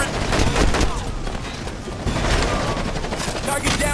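Heavy automatic gunfire in Ghost Recon Advanced Warfighter rattles loud and close in dense, overlapping bursts with booming impacts, barely pausing across the whole stretch.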